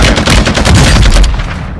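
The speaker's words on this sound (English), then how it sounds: "I can't believe you're shooting at me right now." Rapid gunfire from another player in a video game, a loud continuous barrage of overlapping shots across the whole stretch, tapering slightly at the end.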